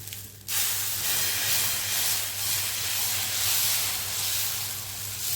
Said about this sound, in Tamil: இப்போ இன்னொரு தோசை வந்து போட்டுருங்க